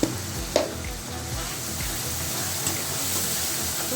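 Garlic, ginger, chilli and cumin paste with red chilli powder sautéing in a pan for soyabean curry, a steady soft sizzle with a couple of sharp clinks of a spoon against the pan near the start.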